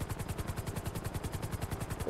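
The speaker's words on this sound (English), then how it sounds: "It's a helicopter taxi." A helicopter taxi in the video game Grand Theft Auto V flies with a steady, fast rotor thump, quiet and continuous throughout.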